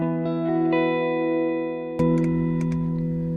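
A sustained electric guitar chord rings through a tube preamp pedal with its high-pass filter engaged, giving a thin, bass-cut tone, followed by a fresh strum and a few light picked notes, steady and loud.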